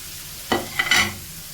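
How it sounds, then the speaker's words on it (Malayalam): A spatula stirs a spicy South Indian mushroom stir fry with pepper, chili, turmeric and garam masala in a pan, producing a few brief scraping strokes over a soft, steady sizzle. "നമുക്ക് പതുക്കെ ഇതുപോലെ ഒന്ന് ചെറുതായിട്ടൊന്ന് ഇളക്കി കൊടുക്കാം"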